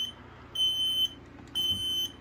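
A smoke detector, set off by test smoke spray, sounds two loud, shrill beeps, each about half a second long, separated by a brief pause.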